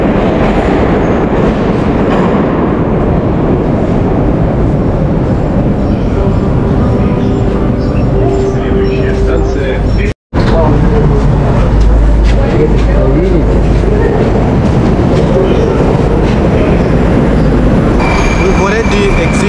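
A metro train rolls along underground with a loud, steady roar and rumble that fills the carriage, broken by a brief drop near the middle before the clattering ride noise resumes.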